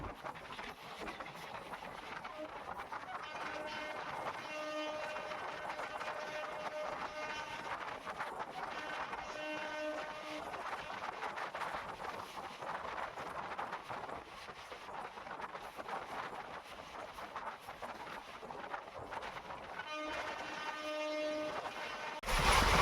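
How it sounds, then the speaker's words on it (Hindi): Bikaner–Delhi Sarai Rohilla SF Express (22471) running through Bikaner district, a steady loud rumble of wheels and carriages with recurring tonal horn-like bursts near the start, middle and end, with no talk. "ट्रेन स्किप करने जा रही है बिग्गा रेलवे स्टेशन को"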